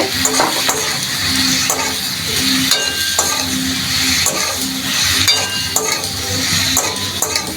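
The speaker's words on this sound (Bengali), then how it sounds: "দেখো হলুদ গুঁড়ো দিয়ে দিলাম এখন একটু নাড়াচাড়া করে" A spatula stirs tomato chutney with turmeric powder in a frying pan, producing steady scraping and sizzling with scattered metallic clinks against the pan, close and continuous with no talk.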